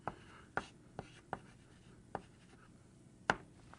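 Units written by hand on a page while working a solid-state chemistry problem, heard as a handful of quiet, separate pen strokes at uneven intervals, close and faint, with no speech.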